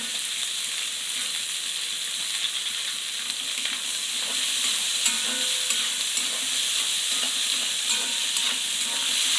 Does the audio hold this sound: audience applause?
no